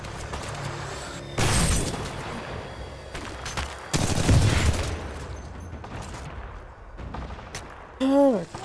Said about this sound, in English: Why did I just shoot at that?